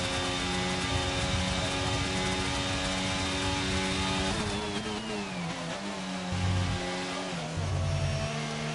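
A Formula 1 car engine from a racing video game at the Jeddah Corniche circuit in Saudi Arabia, a loud, high-pitched whine that holds steady, then drops and climbs again through shifts as the car passes, with no talking.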